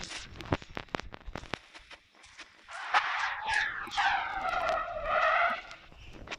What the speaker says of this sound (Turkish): Araç kayıyor.